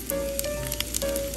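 A rice ball seasoned with Horinishi grills on a camp stove outdoors, its surface crisping. A soft, steady sizzle with faint pops carries on briefly at close range, with no voices.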